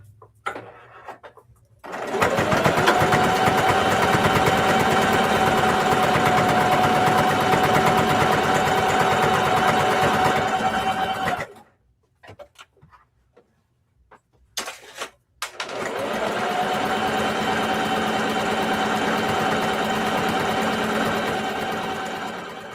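A sewing machine top stitches the side of a fabric handbag, running in two long steady bursts with a brief pause between, close and loud.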